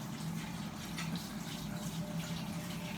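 Hot water runs from a kitchen tap into a sink, a steady soft gushing hiss with a low rumble underneath, continuous and fairly quiet, without talk.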